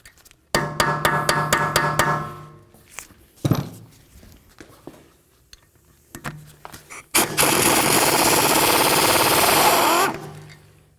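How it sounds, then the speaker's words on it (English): Rapid bursts from an impact wrench fitted with a 6mm Allen head socket, loosening a rear brake bolt on a 2012-2019 BMW 328i, come in a loud run of hammering rattles early on, then a long sustained buzzing whir near the end. "I'm going to use a 6mm Allen head socket to remove this bolt."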